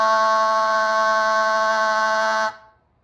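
A goose call blown as an air and voice control exercise makes one sustained, buzzy, horn-like tone held steady for over two seconds and then cut off, loud and close.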